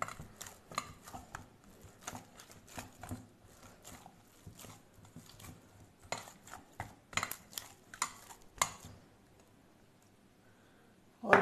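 Hands work bun dough with oil in a bowl, giving soft irregular squelching slaps and knocks in uneven bursts, close and fairly quiet, with a brief pause before a final sharp knock.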